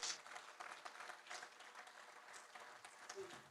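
Quiet, distant applause from an audience at a football event in Cameroon ripples steadily for several seconds, faint and diffuse throughout.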